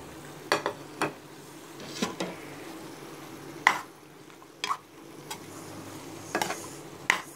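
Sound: stirring spice powders into chicken curry in a pot

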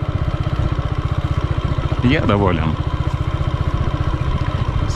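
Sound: Racer Tourist 150 motorcycle engine idling

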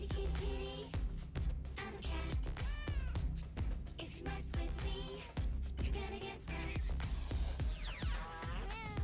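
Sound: cat meowing in Fortnite video game

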